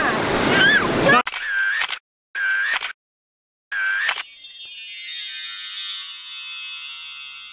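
On a beach, a smartphone camera fires a quick series of three shutter clicks, each a sharp burst cut by brief silences, after a moment of voices and rushing surf, which then returns loud and steady.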